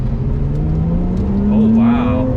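Supercharged Lotus Evora GT pulling hard in race mode, engine note climbing steadily with a rising whine layered over the low drone, close and loud from inside the cabin, with a voice exclaiming briefly over it.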